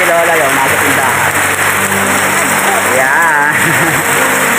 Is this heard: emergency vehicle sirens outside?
no